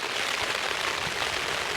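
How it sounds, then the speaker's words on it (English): Heavy rain on a wild camp, a dense, steady hiss of drops falling continuously with no pauses and no voices. "So today we've got basically rain"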